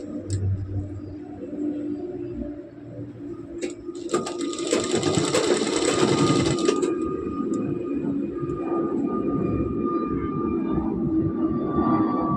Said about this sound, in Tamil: முடிந்தவரை ஒரே மாதிரி தைக்க வேண்டும்.